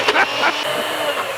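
A blender whirs as it tries to puree chunky pumpkin spice beef curry ingredients with a little oil, giving a steady, loud broadband whine after a few brief bursts at the start.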